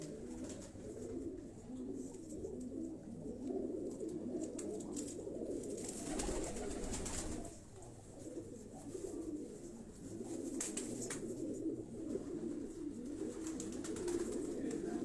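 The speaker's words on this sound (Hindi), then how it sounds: "ये चक 79 वाले कबूतर हैं।" Many pigeons of the Chak 79 breed coo continuously nearby in low, throaty burbles, overlapping into a steady murmur, with occasional rustling and flapping mixed in.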